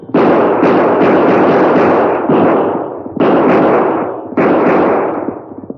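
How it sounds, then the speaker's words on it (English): Gunshots fired into the air as a radio drama effect, rendered as loud, close bursts that overlap into a rapid volley, each sharp crack trailing off into a long echo before the next group. "12 shots rang out through the silent night."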